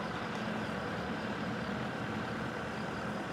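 A farm tractor engine idles steadily close by, a continuous low rumble with no change in pace and no voices over it.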